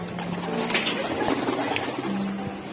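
Racing pigeons coo in low, soft, repeated calls close by, set against a steady murmur of background noise, with no voices heard.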